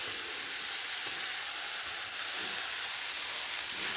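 Tomatoes go into a pan with sautéed capsicum for an oats vegetable soup, sizzling in a steady, loud, close hiss of frying that carries on without a break, with faint stirring knocks underneath.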